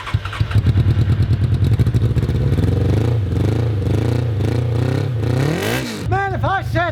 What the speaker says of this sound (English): And sitting all those years, it still idles pretty good.